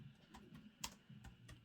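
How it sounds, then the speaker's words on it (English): Soft, quick clicks of typing on a computer keyboard, irregular taps with one sharper keystroke, close by and fairly quiet. "I'm just typing on my computer."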